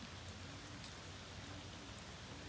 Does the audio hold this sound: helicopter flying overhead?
no